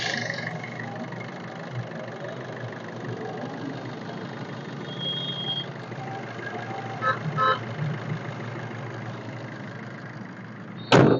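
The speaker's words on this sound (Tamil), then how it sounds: "வண்டியோட இன்ஜின் சவுண்ட் எப்படி இருக்குங்கிறத கேளுங்க." A used 2016 Maruti Swift Dzire VDI diesel engine runs at a steady idle, a constant low rumble heard close up, with a brief horn toot near the end.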